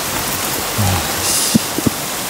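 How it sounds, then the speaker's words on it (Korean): Heavy rain pours in a dense, loud wash of hiss close by, with a few sharp drips and knocks on a nearby surface near the end. "갑자기 비가 이렇게 쏟아지네"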